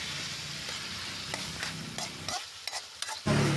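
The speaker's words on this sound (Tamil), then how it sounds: "தக்காளி நல்லா வதங்குறதுக்கு கொஞ்சமாக உப்பு போட்டு நல்லா வதக்கி விட்டுறலாங்க" Tomatoes sautéing with salt in a hot pan, a continuous close sizzle broken by spoon scrapes and stirring knocks, briefly quieting before the frying surges back; no speech.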